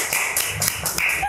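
A short run of hand claps in a talk-show interview, several sharp, close slaps coming quickly one after another.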